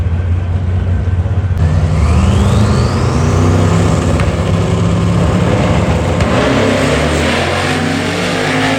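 An old-school Ford Mustang drag racing at Truck Fest, its loud engine roaring and building as it accelerates down the strip, with crowd and track noise around it and no talk.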